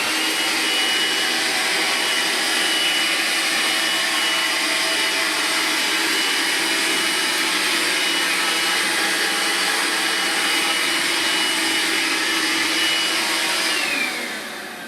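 Makita 18V and 40V CL001G stick vacuums and a Dyson run continuously across a floor, a loud, steady motor whoosh that cuts off near the end.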